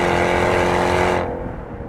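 A 2016 Jaguar F-Type with an eight-speed gearbox and all-wheel drive roars loudly at high revs, a dense, close engine note that eases off sharply toward the end.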